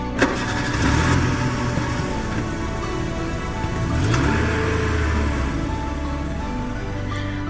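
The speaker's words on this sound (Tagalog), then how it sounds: "Nang makita ni Emil ang sasakyan ay agad niyang itong pinaandar at tinahak ang daan ng EDSA patungong Makati" A car engine starts and idles, turning over into a steady rumble that continues alongside a constant rain-like hiss, with no talking.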